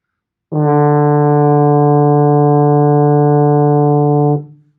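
A baritone horn holds a single sustained D, a steady full-toned note of about four seconds that starts cleanly and fades briefly at the end, played alone.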